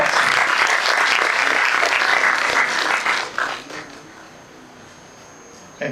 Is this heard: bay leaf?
no